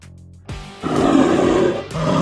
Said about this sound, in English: B for bear.